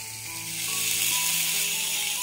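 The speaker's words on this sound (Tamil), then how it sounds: "பேன் நல்லா சூடாயிடுச்சு இப்போ பைனாப்பிளை வச்சிடலாம்" Pineapple pieces sizzle on a hot pan brushed with butter, a steady close frying hiss that swells slightly after the fruit goes down and holds on without any talk.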